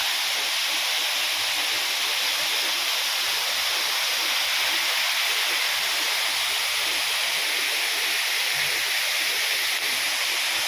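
Dhankjhari waterfall roaring steadily as a loud, continuous rush of falling water with no voices, heard up close throughout.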